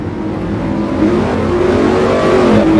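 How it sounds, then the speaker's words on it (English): A street stock race car revs hard while doing burnouts, its engine loud and close with a droning roar that climbs steadily in pitch and stays unbroken throughout. "as we see McKinney do a couple burnouts"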